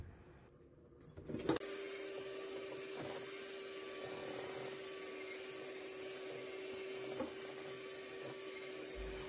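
An electric mixer whirs in a steady, moderately quiet drone as it creams oil, butter and sugar for red velvet cake batter, starting up after a brief quiet moment and running evenly with faint bumps against the bowl.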